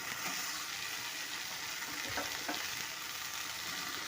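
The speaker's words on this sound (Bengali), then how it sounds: "এবার দিয়ে দেবো কেটে রাখা টমেটো।" Chopped tomatoes go into a hot frying pan of jackfruit curry cooked mutton-style, with a steady oily sizzle and a brief louder hiss and stirring scrape partway through.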